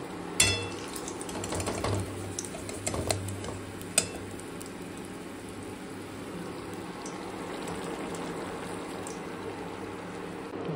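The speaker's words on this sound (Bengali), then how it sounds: "মাছগুলো ভাজা হয়ে গেছে, এবার দেবো ঝোলে।" Fried fish pieces are dropped into a simmering curry, with a few utensil clanks and stirring noises early on, then a soft, steady bubbling simmer.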